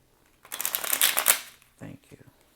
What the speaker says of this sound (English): I get a good shuffle in.